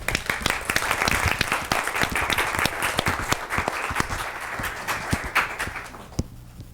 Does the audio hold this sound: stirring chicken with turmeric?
no